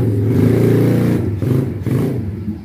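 Small 110cc automatic mini trail motorbike engine starting up and idling, a close, loud rattling putter with brief dips in level over a few seconds, no talk.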